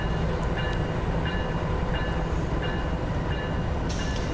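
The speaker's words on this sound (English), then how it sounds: "let the train continue to coast." A freight intermodal train coasts along the CP Laggan Subdivision near Lake Louise, Alberta, in the Open Rails train simulator, with a steady loud rumble and regularly spaced wheel clicks over the rail joints.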